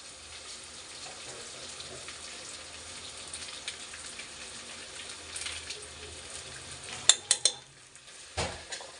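Chilli powder and sambar powder fry in a pan with a soft, steady sizzle. A few sharp metallic clinks of a utensil come near the end, and no one speaks.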